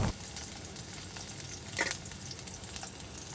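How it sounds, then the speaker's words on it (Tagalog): Garlic and onion sautéing in a pan for adobong sitaw, a steady broadband sizzle with a few scraping stir strokes, one louder clatter near the middle, close and continuous with no talk. "bawang, sibuyas, halu-haluin mo lang yan hanggang mag-color brown yan"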